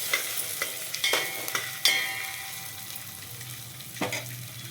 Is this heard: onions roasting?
yes